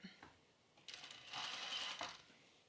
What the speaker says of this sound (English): we're going to put this right sides together and then just sew right onto it